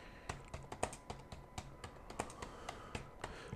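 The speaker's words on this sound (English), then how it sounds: "So I'm just typing it in there real quick." Fingers typing on a computer keyboard, a quick irregular run of crisp, close key clicks with short pauses between bursts, heard alone.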